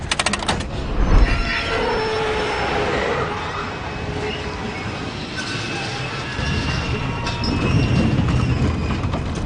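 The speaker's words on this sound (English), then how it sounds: "the train comes to a complete stop" A train rolls and grinds to a full stop, with broadband rumble, faint high wheel squeals and a scraping surge toward the end, continuous and fairly loud.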